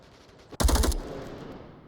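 Gunfire in the VR shooter Onward: a sudden sharp burst of rapid automatic shots, loud and close, cuts off after a fraction of a second and leaves a fading echo.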